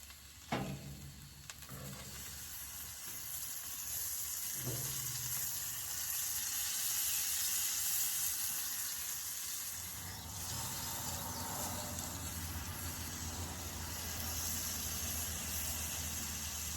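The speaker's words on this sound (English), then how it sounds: "I'm going to go ahead and sear both sides really well." Hybrid striped bass sears in a hot pan with a steady, hissing sizzle. A few clanks sound early on, the tone shifts slightly midway, and the sizzle stays moderately loud throughout.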